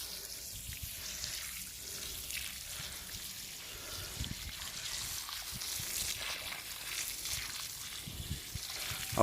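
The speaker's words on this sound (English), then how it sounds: "so what I'll do is I'll water these now" Water running and trickling onto soil around newly planted olive trees in a garden, a faint, steady outdoor splashing with low background noise and no talk.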